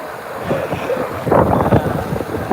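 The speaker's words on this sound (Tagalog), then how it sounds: "may kakusog ba sa hangin, uy?" Strong wind gusts buffet the microphone outdoors near water, a rough, swelling roar that peaks midway through.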